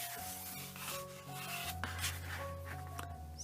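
Scissors trim thin faux leather around a cardboard journal cover, giving close, soft rubbing and snipping sounds in a continuous stretch with no talking.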